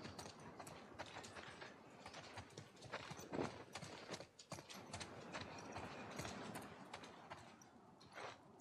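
Horse hooves clip-clop in The Last of Us Part II, a steady run of hoofbeats mixed with mechanical clanking and ratcheting game sounds, continuous across the whole stretch with no talk.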